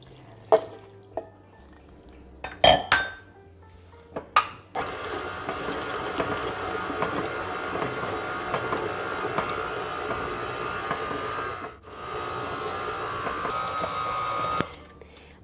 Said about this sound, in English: I'm almost done mixing my masa, at least all the ingredients